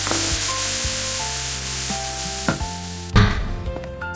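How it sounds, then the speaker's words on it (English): French fries cooking in medium-hot oil on a first fry give a steady close sizzle, with a few sharp knocks and a louder clattering burst near the end. "First fry cooks them inside without browning too much"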